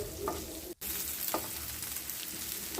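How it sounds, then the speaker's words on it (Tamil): Baby potatoes frying in a pan with salt, stirred over a low flame: steady close sizzle with a few scraping stirs and a brief gap. "உப்பு சேர்த்துட்டு நல்லா வதக்கி விட்ருங்க."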